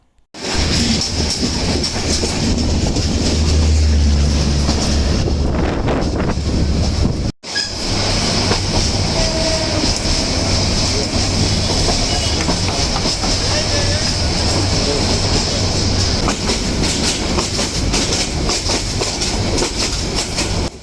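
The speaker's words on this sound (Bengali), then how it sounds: "ট্রেন হর্ন দিচ্ছে আর দ্রুতগতিতে ছুটে চলছে" Passenger train running on the tracks between Dhaka and Joydebpur, a loud, steady rumble and rattle of the carriages with rhythmic clickety-clack, heard close from inside the train, with a brief dropout partway through.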